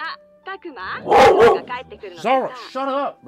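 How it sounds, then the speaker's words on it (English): A dog in the video game Digimon Survive gives a few close yips and barks, with someone talking over and between them. "You hear the dog growling."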